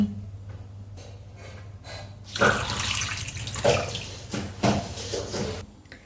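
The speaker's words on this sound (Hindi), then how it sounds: "सूरन को अच्छे से धुलने के लिए इनमें डाल देते हैं हम ढेर सारा पानी" Water gushes and splashes into a pot of suran (elephant foot yam) for washing after a quieter start, with a few surging pours and clattering bursts, close by.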